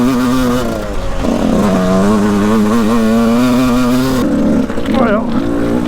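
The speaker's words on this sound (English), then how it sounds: "Freaking ride the bike, Bill." A dirt bike engine drones and revs steadily on a motocross track, loud and near, its pitch rising and dipping as the rider works the throttle, with a brief shift in tone near the end.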